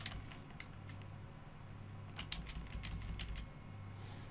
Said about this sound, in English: you can press the control and move your layer around with the arrow keys.